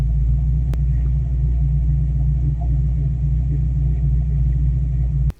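A Ford 351W V8 in a Fox Body car idling through Flowmaster 40 Series Delta mufflers, a steady deep low rumble held evenly throughout, close and loud, cutting off at the end.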